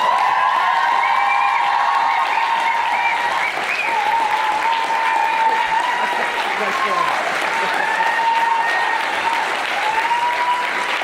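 A large event crowd applauds and cheers continuously for drummers at an opening ceremony, a dense, steady wash of clapping with whoops and shouts layered throughout.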